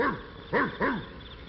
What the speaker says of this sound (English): out from behind a bush jumped Major, one of the biggest, most ferocious hound dogs in the forest